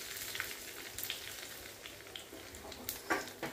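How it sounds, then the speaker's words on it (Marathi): Mustard seeds, curry leaves and red chillies crackling in hot oil for a tempering poured over tomato chutney, a faint steady sizzle with scattered sharp pops and spits. "तेल छान गरम झालेले, अर्धा चमचा मोहरी टाकूया। कढीपत्त्याची पानं टाकायची, 2-3 लाल मिरच्या टाकूया।"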